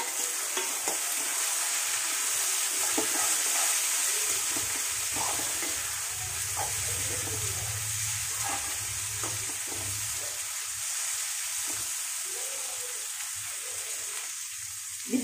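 Onions, four tomatoes and a green chili fry in a pan for dum aloo, making a steady close sizzle throughout with intermittent stirring scrapes, and no one speaks.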